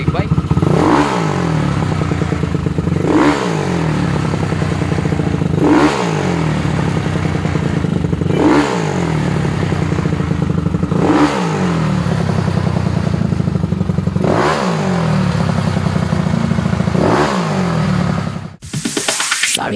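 A 239cc four-valve fuel-injected motorcycle engine sits on its center stand and revs loudly and repeatedly, about seven rising and falling throttle sweeps in a steady rhythm, close and dominant before it drops sharply at the end.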